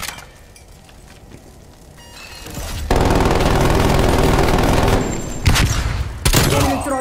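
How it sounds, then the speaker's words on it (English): Call of Duty sentry turret opens up in a loud, sustained burst of rapid automatic fire after a quieter stretch, hammering on for several seconds with a couple of sharper bangs near the end. "Enemy appears. Initializing sentry turret."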